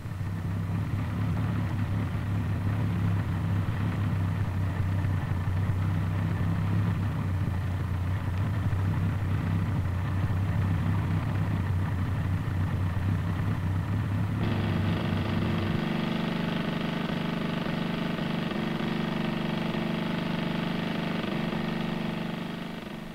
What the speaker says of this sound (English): the motor of a discarded Jeep was installed in the rear. Using a system of belts and pulleys, the Jeep's transmission operates an air compressor